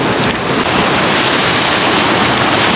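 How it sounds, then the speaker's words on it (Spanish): Rough ocean surf on a beach roars as a loud, unbroken wash of noise, close and continuous, with wind buffeting the microphone. "las olas están un poco pues enojadonas"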